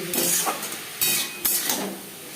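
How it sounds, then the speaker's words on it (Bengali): Kakrol (spiny gourd) tossed with salt and turmeric in a cooking pan gives a run of scraping, clattering stirs, with a few sharper utensil scrapes against the pan and a soft sizzle underneath. "লবণ হলুদ কাঁকড়ের সাথে বেশ ভালো করে মিক্স করে দেবে"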